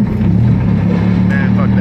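A VQ35 engine drones loud and low as the car drives, with a slight shift in tone as it changes into third gear, and a voice is faintly present.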